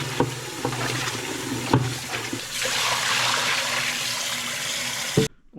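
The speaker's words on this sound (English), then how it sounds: "Go clean the pot a little bit." Water runs and splashes while a cooking pot is scrubbed clean before cooking sweet and sour pork spare ribs. It makes a close, continuous gush broken by clanks of the pot, then cuts off abruptly near the end.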